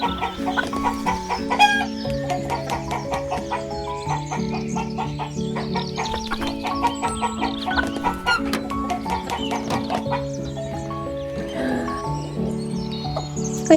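A broody hen clucks repeatedly at close range amid a busy backyard flock, with overlapping cackles and calls running steadily throughout.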